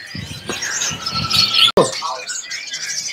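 A white-rumped shama chirps and warbles in quick, varied phrases close by, with a sharp click partway through.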